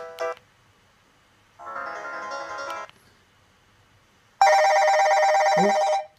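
A Doro PhoneEasy 615 mobile phone plays through several ringtones: a quick chirp, a buzzy trilling tone lasting about a second, then a much louder, dense electronic ring that sounds for nearly two seconds before stopping.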